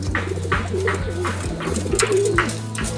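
Racing pigeons cooing close by, several rolling coos in a loose repeating rhythm over a steady low background hum, with no talking.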